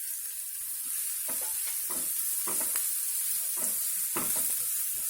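Onions and chili powder fry in a pan, a steady high hiss of sizzling oil with intermittent scraping stirs from a spoon, close and continuous with no talking.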